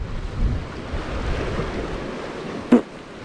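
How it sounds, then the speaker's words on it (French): Sea waves washing in at a coastal sea bass lure-fishing spot, a continuous rumbling surf wash with wind buffeting the microphone and one brief sharp knock near the end. "Il y a des vagues, hein."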